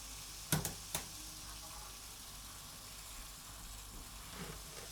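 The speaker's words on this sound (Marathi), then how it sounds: "जिरं आणि तीळ भाजून घेणार आहोत।" Cumin and sesame seeds roast in a small tempering pan for a Kolhapuri mutton dish, giving a faint, steady sizzle. Two sharp metallic clinks ring out near the start.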